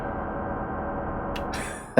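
A steady, sustained synth tone with no volume envelope holds at constant level for about two seconds, then cuts off with an abrupt click rather than fading smoothly.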